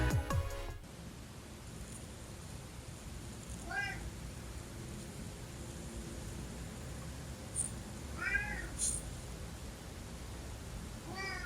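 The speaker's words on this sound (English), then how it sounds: "Phil the Airbnb cat chattering away in the middle of the night, waking me up" A cat chatters at night in a quiet room, giving short, faint bursts of clicking chirps spread across several seconds against a low background hiss.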